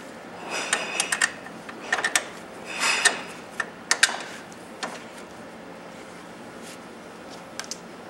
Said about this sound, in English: snug them up with an air gun or a standard ratchet